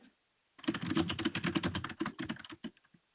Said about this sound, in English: I hear some typing from somebody.